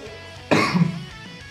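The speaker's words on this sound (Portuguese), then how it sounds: "Tosse." A single close, loud cough that bursts out suddenly and fades within about half a second, with quiet background before and after.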